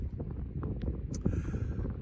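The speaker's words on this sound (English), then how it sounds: "I'll fight the wind a bit, see what happens" Wind buffeting a microphone outdoors, a steady low rumbling roar with gusty fluctuations filling the short stretch, no voices.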